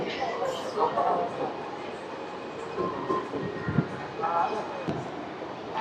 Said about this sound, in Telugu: గుడ్లవల్లేరు నుంచి మన ట్రైన్ అయితే స్టార్ట్ అయిపోయింది